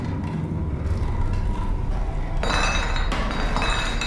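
Thick glass being struck in the video game SOMA, a pair of heavy, dull impacts with a clinking ring over a constant low rumble of ambient background.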